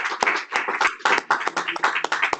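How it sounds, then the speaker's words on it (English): An audience at a workshop applauding a speaker named Warren, a dense burst of clapping from many hands in a room, steady and loud for the whole moment. "let's give Warren a round of applause."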